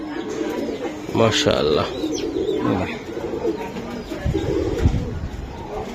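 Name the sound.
Baga Silver pigeons cooing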